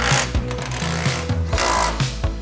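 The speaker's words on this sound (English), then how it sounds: "Finish up tightening the sway bar link and we'll be good to go for this side." A power tool rattles in quick repeated bursts while a sway bar link is tightened on a Porsche 996 suspension during a coilover install, loud and close with short pauses between pulses.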